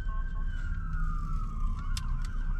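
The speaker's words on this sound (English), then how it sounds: "There's an ambulance going by when I came through, and then there's another one going the other way now." An ambulance siren sweeps past on a street, a loud wailing tone that slowly falls in pitch as it goes by, over steady traffic rumble, with no one talking.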